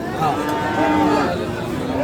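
Friesian cattle and heifer calves at the Raniganj cattle haat in Dinajpur low in long, loud moos close by, with people talking underneath.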